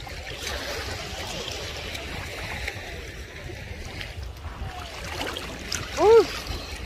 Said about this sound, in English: The waves are getting stronger and stronger.